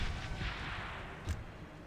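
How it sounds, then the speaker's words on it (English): A cannon fires in the fantasy battle game Warhammer: Mark of Chaos, a dense rumbling roar of battle with one sharp blast cutting through partway in. "Cannon ready, my lord."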